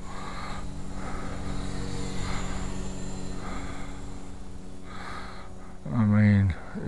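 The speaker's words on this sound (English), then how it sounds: "It's funny looking with the down thrust in the engine, and then with the electric motor and the propeller, huh?" A Parkzone Ember 2 RC plane's electric motor and propeller briefly whine up to a loud, buzzing spin-up near the end, after a long stretch of steady outdoor rumble with a person talking.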